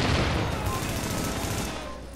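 Dense, continuous gunfire with rapid overlapping shots and booms, steady and loud throughout, from a firefight in the video game The Division.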